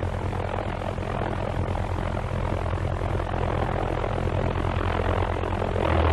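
A V1 flying bomb's pulse-jet engine runs at part load on its launch ramp, a steady, loud, rough buzzing drone that holds throughout without a break.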